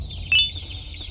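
A chick in the video game Garten of Banban II gives a single short, bright chirping cluck over a low game background hum.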